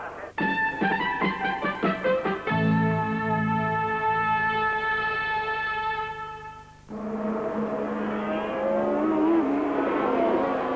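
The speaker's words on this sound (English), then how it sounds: "So Prost leads Jones" Formula 1 race cars at the 1981 Italian Grand Prix scream past at high revs, sharp tonal engine whine rising and shifting as cars pass close, loud and continuous with a crowd-like wash beneath.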